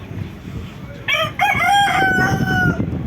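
A rooster crows loudly nearby, a long drawn-out call rising over a background of clucking chickens and general noise at a live animal market in Turkey.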